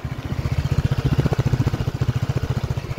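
A 2021 Honda PCX 125 scooter engine idles close by just after starting, with a steady, quick, even putter and no other sounds.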